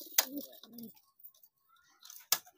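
Two short bird calls, soft and separate, with near silence between them; low rounded tones fit pigeons cooing nearby.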